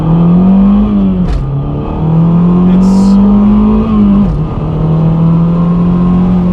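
A turbocharged Mazdaspeed 3 accelerates hard from inside the cabin, a loud droning engine note climbing through the gears with short dips at each shift and faint turbo whistle.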